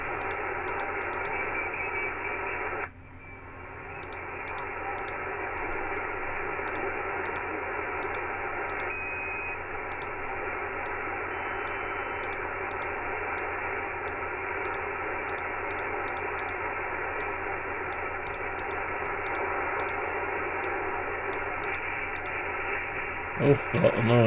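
Yaesu FT-891 radio hissing with steady static while scanning, briefly dipping early on, with scattered soft clicks from controls and a few louder clicks at the end.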